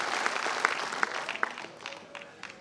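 An audience at a Hindi comic poetry gathering claps for a poet, a short burst of scattered applause with a few sharp claps that quickly thins out.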